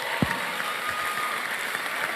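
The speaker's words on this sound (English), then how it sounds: "I thought you would clap." Audience applause as a continuous wash of clapping, steady and moderately loud, with a single low thump near the start and no clear voices.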